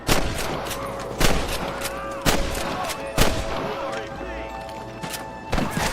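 Red Dead Redemption shootout: four sharp gunshots crack at uneven intervals over a steady background bed of tonal ambience, loud and close.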